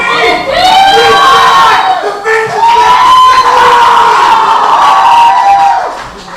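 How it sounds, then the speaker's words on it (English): A wrestling crowd at a middleweight match in Paulsboro cheers, whoops and shouts loudly and continuously, with high excited voices swelling throughout. "There you see Alexander trying to get this Paulsboro crowd behind him."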